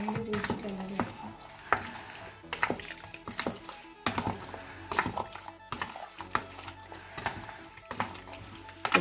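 Chicken being mixed with masala in a pan for a Malayali fried chicken curry, with repeated scraping stirs and a steady sizzle running throughout at close range, no talking.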